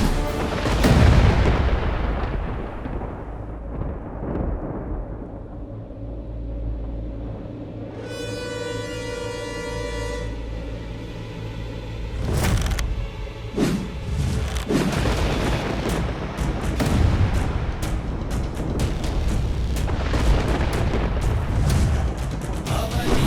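The earth bursts open with fire from Shri Ram's arrow: deep booming rumbles and roaring blasts build and crash loudly, with a ringing tonal swell midway before heavy crackling bursts return, all set under dramatic music.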